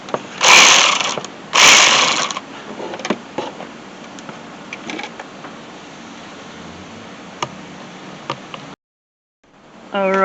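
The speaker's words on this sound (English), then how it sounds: "there is a bolt right there that we need to take off," A ratchet removes a 10 mm bolt on the radiator of a 2003 Jeep Liberty: two loud bursts of close clicking, then scattered soft ticks over a steady hiss, a short silence and a final quick ratcheting run.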